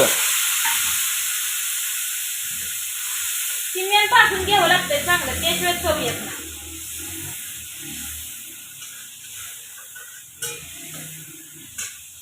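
Ginger, garlic and coconut paste sizzles and fries in a pan over a cumin tempering, a steady close hiss running throughout while someone talks over it for a few seconds.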